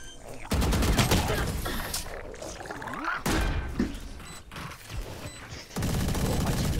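Rapid gunfire bursts from the Valorant video game crackle loudly in fast volleys, broken by short gaps and mechanical clicks, as a player voice talks over the action.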